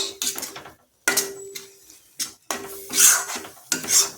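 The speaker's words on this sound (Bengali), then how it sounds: "এবার আমি একটা থালা নিয়েছি, একটু ঘি লাগিয়ে নিয়েছি থালাটায়" A plate for mango sandesh is handled and greased with ghee, heard as close, intermittent clinks and scraping rubs of metal and dishware separated by short silences.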